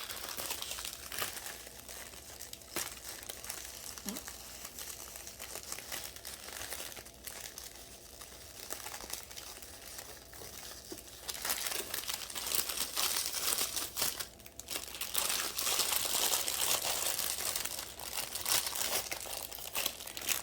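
Paper wrapping crinkles continuously during a wax melt unboxing, soft close rustling and crumpling that grows denser and louder in the second half, with no talking.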